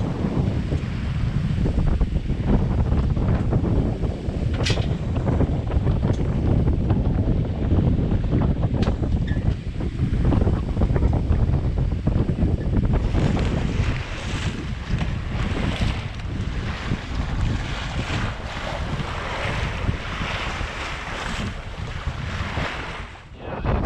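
Wind roars steadily across the microphone aboard a 1961 Kettenburg K40 yacht under sail, with rushing water and gusty buffeting that keep on without a break and build stronger in the second half.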